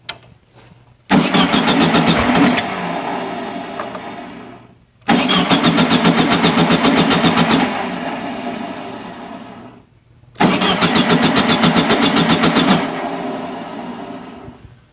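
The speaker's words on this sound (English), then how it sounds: "That starter, man, doesn't sound healthy." The starter of a 1974 VW Super Beetle cranks the engine in three loud, separate attempts of several seconds each, with a steady, rapid churning and short pauses between them.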